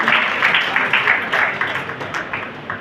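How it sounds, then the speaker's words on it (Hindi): Crowd applause greeting a guest at a Bikaner foundation day youth awards event, a loud burst of clapping that gradually tapers off. "उपेंद्र मिश्र साहब का जोरदार तालियों से स्वागत करिए।"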